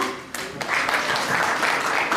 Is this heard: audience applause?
yes